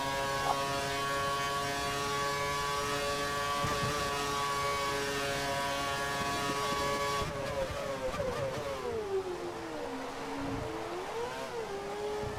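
Ferrari Formula 1 engines screaming at high revs during a Japanese Grand Prix racing game, a sustained loud whine with pitch dropping and climbing through gear changes and braking near the end.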